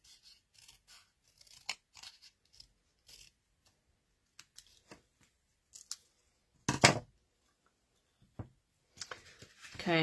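Scissors cut around a festive card made with a Christmas tree stamp set, giving scattered, quiet snips and small crunches with pauses between them, heard close up and mostly alone.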